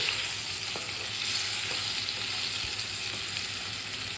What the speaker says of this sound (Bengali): এবার আলুগুলোকে লাল লাল করে ভেজে নেব।